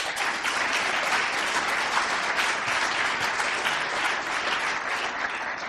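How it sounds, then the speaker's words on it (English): A conference audience claps in sustained, dense applause for the event sponsors, steady and even throughout with no voices standing out. "So please, a round of applause for them."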